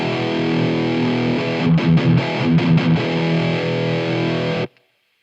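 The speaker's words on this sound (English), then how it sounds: "If you're on overdrive 2, for example, this is without the damping control." A heavily distorted electric guitar through a Marshall MG50CFX amp on overdrive 2 with the damping control off rings out with sustained overdriven chords and a few choppy strummed notes, then cuts off abruptly into silence.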